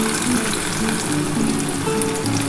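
Taro and potatoes frying in hot oil with black cumin in a pan, a steady close sizzle with a continuous hissing crackle.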